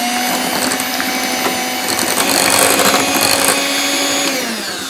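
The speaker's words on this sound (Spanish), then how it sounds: "y ya terminaremos de batir." An electric mixer beats cupcake batter with milk and vanilla extract, a loud steady whine close by that eases down near the end, with no voices.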